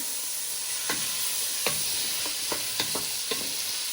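Vegetables for Singapore vermicelli sizzle in a frying pan under a constant bright hiss, while a utensil gives several sharp scraping stirs at irregular intervals, close and steady.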